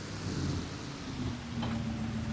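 Rain and rolling thunder fill a stormy scene in Farming Simulator 22, a steady wash of rainfall with low rumbling underneath and a brief crack partway through.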